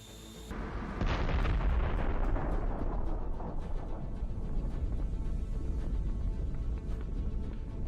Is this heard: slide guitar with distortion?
no